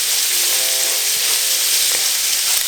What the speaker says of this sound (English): I'm going to add in my asparagus